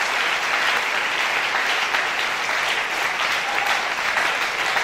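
A church congregation claps loudly and continuously during a French-language service, a dense, steady wash of applause with no break and no audible speech.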